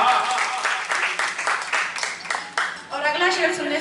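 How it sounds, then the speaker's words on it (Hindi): Audience at a Hindi kavi sammelan poetry gathering in Roorkee breaks into loud, sustained applause, with cheering voices and a speaker talking over the clapping. "जोरदार तालियां एक बार"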